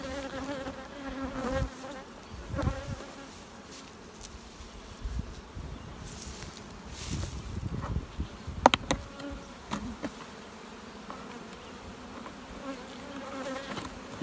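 Honey bees bearding on the fronts of hives during a honeyflow, their entrance reducers removed, make a steady, close buzzing drone with individual bees zipping past now and then across the whole stretch.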